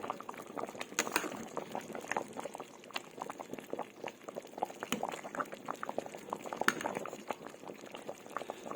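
A pot of saba banana and sago bubbles at a steady boil, with dense continuous popping and gurgling close to the mic and no talk.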